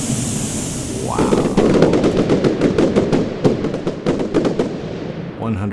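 A rapid string of sharp firework bursts in Roblox Lumber Tycoon 2 crackles for several seconds, dense and loud, with the game's background ambience under it.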